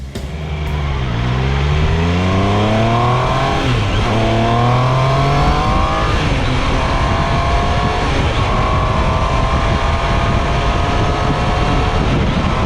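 A 2025 Triumph Tiger Sport 800 motorcycle being ridden, its engine loud and close as it revs and pulls through rising gear changes, then settles into a steady, strong drone with wind roar.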